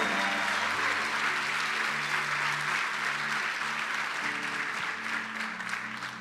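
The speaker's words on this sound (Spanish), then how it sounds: "Iglesia, levanta un aplauso más fuerte para el Señor esta mañana." A church congregation claps loudly for the Lord during a Sunday morning service, with sustained dense applause and faint background music tones underneath, easing slightly toward the end.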